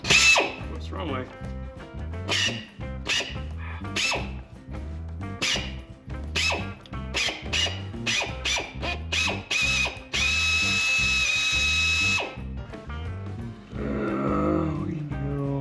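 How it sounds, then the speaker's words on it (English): A power drill whirs in repeated short bursts, then runs steadily for a couple of seconds, close by with people talking around it. "Here we got our drill."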